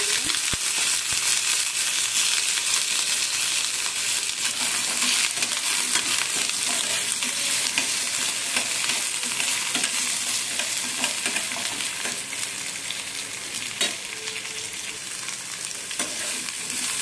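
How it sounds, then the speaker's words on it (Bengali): Hog plum pieces with chilli and black mustard seeds being stirred and fried in oil in a pan, giving a steady close sizzle with scraping stir strokes throughout, no voices. "আমড়াগুলিকে ভালোভাবে নাড়াচাড়া করে নেব।"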